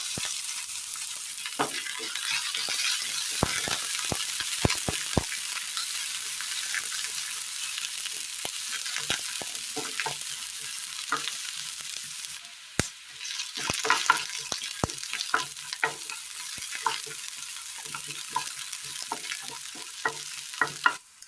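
Mustard seeds and crushed shallots fry in hot oil in a pan, giving a steady sizzle broken by sharp pops and crackles that bunch up in bursts, with occasional stirring scrapes and no voices.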